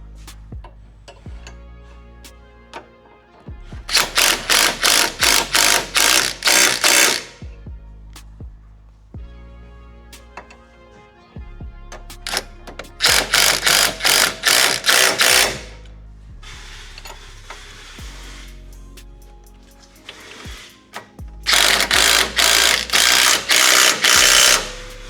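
Nissan 370Z sway bar end link bolts being tightened with an impact wrench in three separate loud bursts of rapid hammering, each a few seconds long, with quieter clinks and handling noises between.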